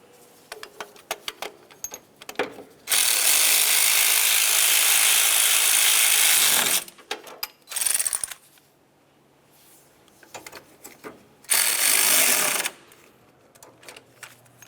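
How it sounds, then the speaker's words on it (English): Belt tensioner mounting bolts on a 2006-2011 Honda Civic are tightened with a ratchet, with two long, loud bursts of rapid clicking and a shorter burst between them, plus smaller tool clatter and handling noise. "Now let's tighten the lower bolt and then the upper."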